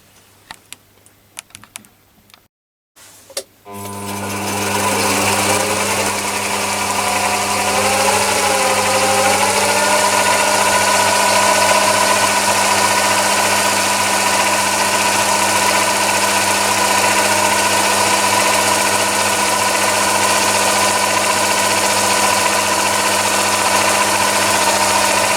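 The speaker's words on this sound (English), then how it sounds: "I'm going to use the Chinese mini lathe with its variable speed to drive the Toolpost drill to do the drilling on the Myford lathe" A variable-speed Chinese mini lathe drives a toolpost drill for drilling on a Myford lathe; after a few brief clicks and a pause, a steady motor whine and mechanical hum start up and run continuously, fairly loud and close, with no talking.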